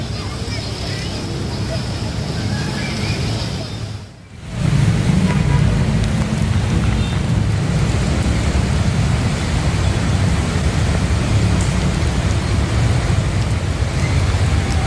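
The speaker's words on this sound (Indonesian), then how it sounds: "Hujan deras yang mengguyur Jakarta membuat jalan ini tergenang setinggi 30 cm" Heavy rain in Jakarta pours over a flooded street, a steady dense wash of water noise with a low roar of passing traffic beneath, continuous and loud throughout with a brief dip early on.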